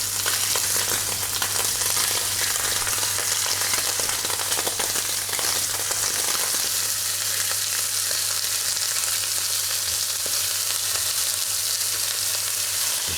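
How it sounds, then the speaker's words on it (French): Scallops sear in clarified butter in a hot frying pan, giving a loud, continuous sizzle and crackle that holds steady and close throughout with no voices. "On va pas tarder à mettre en chauffe une poêle pour faire cuire les Saint-Jacques."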